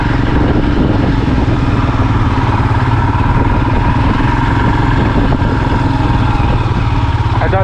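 A KTM Adventure motorcycle engine runs close by, a loud, constant low rumble with even mechanical throb, no talking over it.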